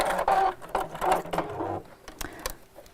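A sewing machine runs a particularly wide stitch along a frayed fabric edge on a gift bag, its needle chattering in quick rhythmic bursts that stop and start, close and fairly loud.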